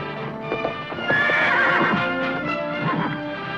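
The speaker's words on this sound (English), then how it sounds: "Make a great saddle horse if anyone can break him." An unbroken saddle horse neighs loudly and shrilly, close by, while its hooves clop on the ground in an irregular rhythm.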